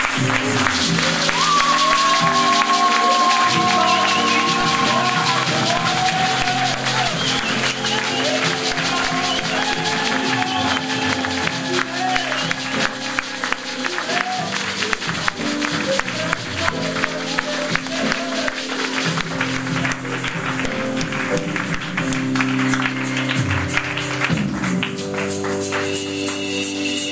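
A church congregation praises aloud, with rhythmic hand clapping that grows denser and steadier through a long stretch, mixed with singing voices and music.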